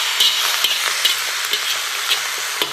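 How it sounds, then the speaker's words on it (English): Wuhan doupi frying in a wok with a steady close sizzle, while two spatulas scrape and flip it in several light, regular clinks and scrapes. "Use 2 spatulas to flip it over."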